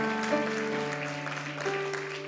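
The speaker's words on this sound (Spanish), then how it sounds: "Te damos un aplauso en señal de agradecimiento hoy" A church congregation applauds during a Sunday service, a dense, steady wash of clapping beneath sustained organ or keyboard chords, with no clear voices.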